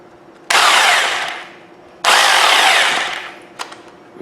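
A Bosch 11255VSR rotary hammer running in reverse gives two loud, broadband whirring bursts of roughly a second and a half each, both winding down as it slows, with a short click afterward and no talk.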